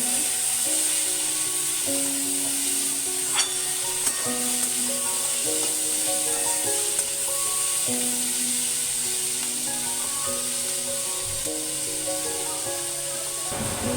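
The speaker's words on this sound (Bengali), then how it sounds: "জিরে গুঁড়ো দিয়ে দিলাম, ধনে গুঁড়ো দিয়ে ভালো করে একটু ভেজে নেব।" Ground cumin and coriander powder fry in a pan for a Bengali chilli mushroom dish, giving a steady, close sizzle that runs unbroken from start to finish with a faint tonal hum beneath it.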